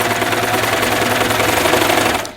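A serger stitching the shoulder seams of a knit T-shirt while its trimming blade cuts a narrow strip, its blade acting up a little; a close, steady, fast mechanical whirr runs continuously before stopping abruptly at the end.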